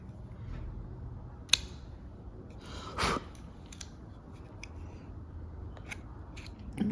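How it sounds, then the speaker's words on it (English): Small garden snips cut seedlings out of a tray, giving a few sharp, crisp clicks spaced apart against a quiet background, with faint rustling between cuts. "pretty ruthlessly snip out a lot of them."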